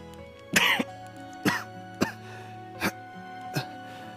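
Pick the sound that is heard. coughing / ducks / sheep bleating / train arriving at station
coughing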